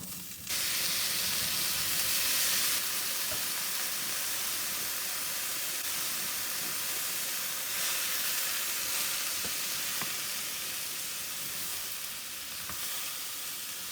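Onions, curry leaves and boiled, drained chickpeas frying in a pan, with a steady, dense sizzle close by and occasional light stirring clicks running throughout and no voices.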